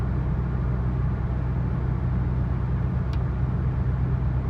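Interior of a car on a test drive at around 45 to 50 miles an hour, a steady low engine drone and road rumble throughout, with no talk.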